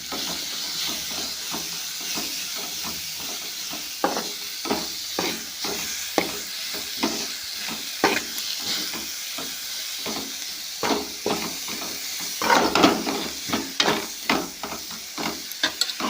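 Onion, tomato and chili fry and sizzle in a pan, with a steady hiss broken by repeated clinks and scrapes of a spoon stirring the pan close by. No one speaks.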